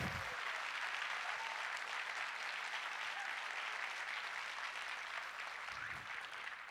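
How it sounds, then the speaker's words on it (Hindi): Sustained applause from a large audience at a Boston event celebrating Amitabh Bachchan, dense clapping filling the hall steadily for several seconds without speech. "एक बार दिल से तालियां साहब।"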